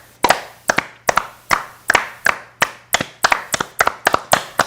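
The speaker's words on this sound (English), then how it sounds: "And then clap." People in a seated group clapping their hands in loose unison, a dozen or so sharp, bright claps in a steady rhythm, each ringing briefly in the room, loud and close with no talk over them.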